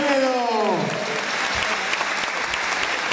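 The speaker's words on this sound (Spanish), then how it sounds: "Fuerte el aplauso una vez más para Fredo y para Isabel" Sustained audience applause at a village tribute honoring two elderly residents of the Casal de Peredo district, steady and dense throughout, with a voice trailing off at the very start.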